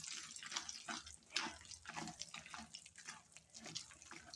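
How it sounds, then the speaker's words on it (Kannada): Sago and ash gourd sandige mixture is worked by hand in a bowl, giving a steady run of wet squelching and slapping sounds, close and fairly loud, with no talking. "ಈಗ ಇದನ್ನು ಓಟು ಮಿಕ್ಸ್ ಮಾಡ್ತಾನೆ ರೀ."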